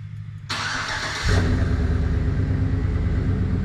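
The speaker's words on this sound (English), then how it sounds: "it's time to start up this one now" A 2010 Chevy Silverado pickup with a quad exhaust cold-starts, cranking and catching, then settles into a steady, loud rumbling idle close by.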